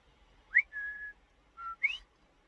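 Sheepdog command whistles blown one after another: a sharp rising chirp, a long steady tone, a short flat note, then another rising chirp, close and clear with nothing else over them.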